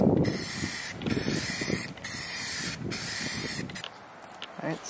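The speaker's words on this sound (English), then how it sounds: "I'm gonna go ahead and start priming it" Spray primer hisses in repeated short bursts onto a Mazda Miata hardtop in a backyard, close and loud, each pass broken by brief gaps as the can is swept across, with no voices.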